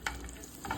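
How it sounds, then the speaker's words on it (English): A freshly flipped steak sizzling in a hot pan, a brief, steady close frying hiss with no talking. "Sure we're flipping our steak"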